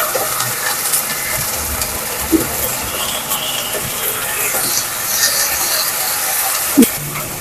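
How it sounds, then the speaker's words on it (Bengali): Ginger garlic paste hitting hot oil in a pan sets off a loud, steady sizzling hiss with occasional stirring knocks, continuing for several seconds. "আদা রসুন দিয়ে দিলাম, আদা রসুন বাটা"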